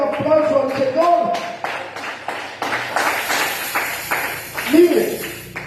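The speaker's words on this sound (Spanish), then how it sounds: "Denle fuerte aplauso al Señor." Church congregation applauding during a sermon, a dense run of sharp claps with voices and shouting mixed in throughout.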